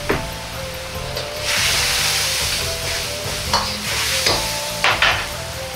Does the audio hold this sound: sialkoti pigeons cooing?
no